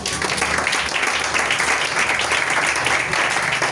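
A church congregation claps and applauds together, a dense, loud, steady wash of clapping lasting throughout with no break.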